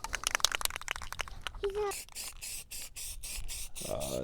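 Hissing bursts of spray finish being applied to a wooden table built from a 2x12 plank outdoors in the dry desert, coming in short, repeated blasts with people talking over and between them.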